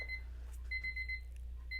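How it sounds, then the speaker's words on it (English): A timer alarm gives a run of rapid, high electronic beeps in repeated bursts, faint to moderate, over a low steady hum. "Okay, shutting off the timer."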